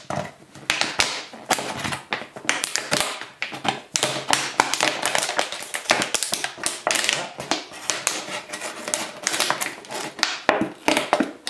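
A plastic bottle is cut across with scissors or a blade, giving a dense run of close crackling snips and crunches that continues without pause.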